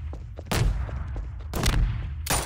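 Gunshots in the video game Garry's Mod, three loud sharp blasts spaced about a second apart, each trailing off into a rumbling tail, with faint voice in between.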